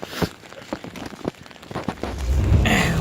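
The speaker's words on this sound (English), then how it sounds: "It's probably way too loud to be vlogging in a car right now with all this rain" Rain drums on the roof of a car from inside the cabin as a soft, dense patter of irregular taps, swelling into a steadier, louder wash toward the end.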